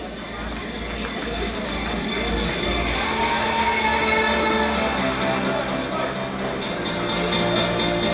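An audience at the Udaan event applauds and cheers loudly, with whoops and yells over continuous crowd clapping and noise.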